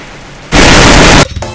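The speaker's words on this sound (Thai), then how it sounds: "แต่ว่าเสียงปืนเนี่ยดังเหลือเกิน" One loud, booming rifle shot in the video game Free Fire that lasts almost a second, very close and harsh, then fades into quiet background noise.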